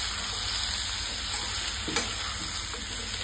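Masala for stuffed brinjal fries in a pan over low gas, giving a continuous close sizzle with a brief stirring scrape partway through.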